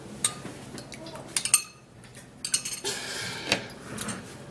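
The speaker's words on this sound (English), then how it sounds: "I'm going to be turning the cucumber juice into the watermelon juice, and then I'll give it a stir" A spoon clinks and scrapes against a glass or jug while cucumber juice and watermelon juice are stirred together, in irregular bursts of close metallic taps with quieter pauses between them.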